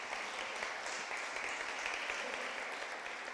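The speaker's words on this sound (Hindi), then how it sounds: "ज़ोरदार तालियां बजाएंगे।" A congregation at a church fellowship prayer meeting gives steady, even applause, a continuous wash of many hands clapping at moderate distance without pause.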